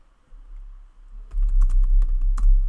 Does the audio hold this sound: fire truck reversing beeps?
no